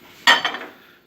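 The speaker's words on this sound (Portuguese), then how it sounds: "Nós vamos aqui colocar um copo com água" A glass of water is set down inside a microwave oven, giving a single short clink of glass on the interior that rings briefly and fades.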